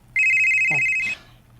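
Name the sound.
cellphone ringing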